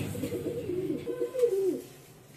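A caged pigeon at a breeding farm gives a close, low, rolling coo that swells and then fades away over about two seconds.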